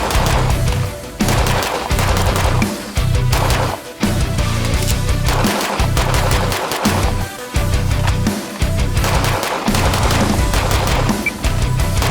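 Rapid gunfire from Shadow Systems Foundation 9mm pistols during a break-in session at the range, loud close strings of shots separated by brief pauses, with no talk.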